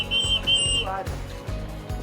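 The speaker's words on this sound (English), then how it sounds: "the guy comes around just blasting that whistle" Loud, shrill whistle blasts from a guard in Rio de Janeiro, two long piercing blows followed by a short one, over background crowd noise and muffled voices.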